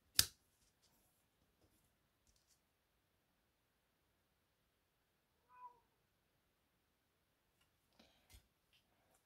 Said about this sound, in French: Qu'est-ce que t'as, toi? T'es où à miauler?